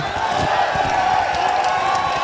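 Rally crowd in Kakamega cheering for the bodaboda motorcycle riders, a dense, loud, steady roar of many voices with scattered whoops throughout.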